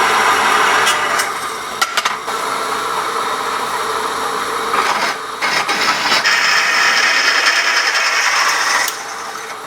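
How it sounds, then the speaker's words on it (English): A power drill bores 1/8 inch holes in steel while building a forge, a steady loud whirring grind with brief stops and restarts and no voices. "I'm just going to go ahead and drill them right now."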